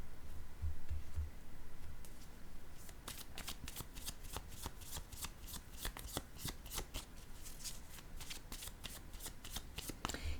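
A deck of cards is shuffled during a card reading, giving a close, crisp run of rapid riffling flutters that goes on for several seconds with no talking.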